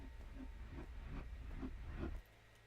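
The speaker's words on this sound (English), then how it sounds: "The kettle's boiling." A kettle boils in the video game Betweenside, giving off a quiet, rhythmic steam hiss in repeated puffs that stops abruptly near the end, leaving faint background noise.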